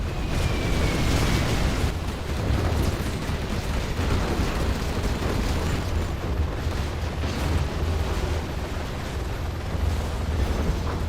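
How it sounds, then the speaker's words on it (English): Carpet bombing and artillery in a real-time strategy game 1v1 tournament match: dense, continuous rumbling blasts and booms pound without pause, loud and close, with no voices. "There's a carpet bomb coming in."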